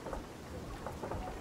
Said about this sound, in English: We're getting struck by lightning the whole time.